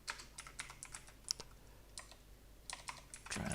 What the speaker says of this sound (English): I could technically go and type it in like this.